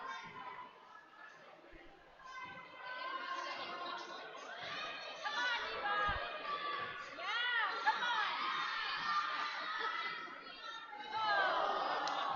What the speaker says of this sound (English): Crowd's excited about that.